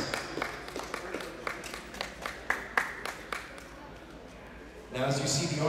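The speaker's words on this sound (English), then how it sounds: "let's give a round of applause for the Wings of Victory" Sparse, distinct hand claps ring out from a modest audience at a Pagani Huayra Roadster and Zonda F presentation, fading after a few seconds before a louder burst of room noise takes over.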